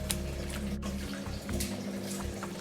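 Boiling water is poured into a pot of braised soy-sauce beef, a soft, steady splashing and trickling pour heard fairly faintly.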